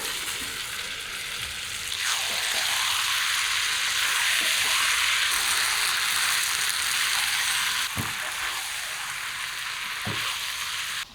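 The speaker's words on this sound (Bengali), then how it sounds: "সবকিছু একসাথে ভাজা ভাজা করে নিলাম" Steady loud sizzle of goat liver with jackfruit and potato frying in a wok, with occasional scraping stirs, no voices.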